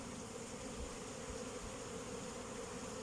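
Honeybees buzz in an opened, thriving hive full of drones, a faint, steady, even hum that continues without a break.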